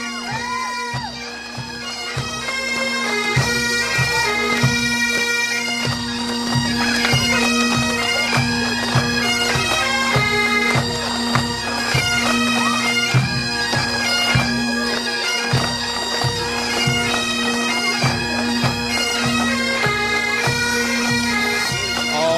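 The St. Patrick's Pipe Band plays continuously, bagpipe drones holding a steady low tone beneath a bright skirling melody, with snare drums rattling throughout.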